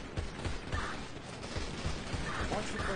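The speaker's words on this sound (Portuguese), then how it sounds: "Tá tomando tiro" Gunfire rattles through a shooting video game in bursts of rapid shots, some close and sharp, others more distant, over a steady game background with a voice talking along.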